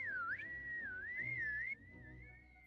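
A person whistles a sustained, wavering melodic tone from a scene in the 1989 film Honey, I Shrunk the Kids, loud and clear for about two seconds, then dropping to a quieter held whistle.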